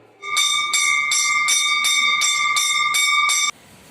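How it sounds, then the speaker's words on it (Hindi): A metal temple bell rings loudly and rapidly, about nine evenly spaced strikes, each chime overlapping the last before it stops abruptly. "मंदिर के मुख्य द्वार पर या प्रांगण में लगी धातु की घंटी को बजाते हैं।"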